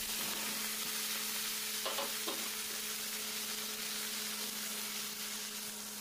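Diced brinjal dropped into hot oil for a Bengali fish-head dish sets off a steady, fairly faint sizzle, with a couple of soft knocks early on and a continuous low hum underneath.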